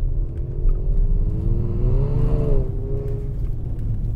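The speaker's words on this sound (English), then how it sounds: "You see the car sliding up." A 2018 Kia Stinger GT drives on snow and ice, its engine a steady loud rumble with a rising and falling rev as the car slides, heard close with no talking.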